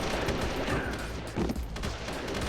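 Rapid gunfire in the GameCube game Metal Gear Solid: The Twin Snakes, a dense sustained burst of loud automatic shots and crackling blasts with no talk over it.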